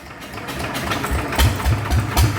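A Yanmar loader's engine, one that often stalls and is hard to start, runs loud and close with a rough idle and a rhythmic series of heavy low thumps as it labors.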